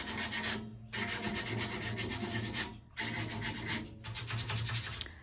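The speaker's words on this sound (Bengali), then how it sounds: "তো প্রথমে একটু ঘষে নিচ্ছে" A painted metal window grille is sanded by hand before repainting, giving steady rough rasping strokes in several long passes with short pauses between them, close and fairly loud, with no voices.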